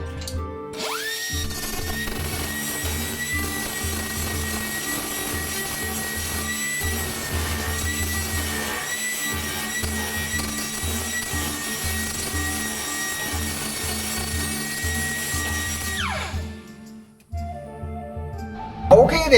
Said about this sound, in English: I ground down and cleaned up all these welds, so these all look nice and flat